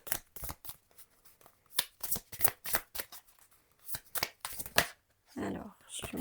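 Oracle cards being shuffled by hand in quick, repeated riffling bursts, close and crisp, with a brief rustle of cards near the end and no other sounds in between.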